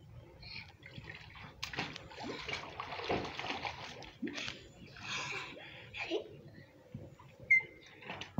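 A child splashes water in a tub during a village bath in Kashmir, with soft splashes and trickles running throughout under a child's and an adult's voices.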